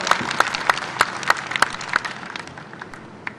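Audience applause welcoming the chief minister at a conference of cobblers in Madhya Pradesh, heard as a steady patter of claps with a few louder, evenly spaced claps standing out near the front.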